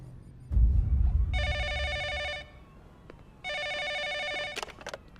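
A telephone rings in two clear electronic bursts separated by a pause, loud and close, with a low thump and rustle before the first ring.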